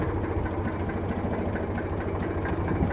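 An Eicher 485 tractor with power steering and double clutch idles steadily, a loud low-pitched rumble with continuous vibration and no speech.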